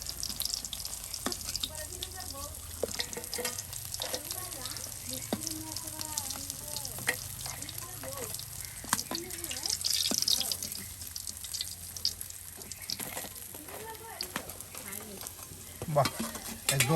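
Chepa puli (shitol puli) rice cakes wrapped in pumpkin leaves, a traditional Mymensingh dish, fry crisp in oil with a steady sizzle, occasional stirring clinks and faint voices in the background.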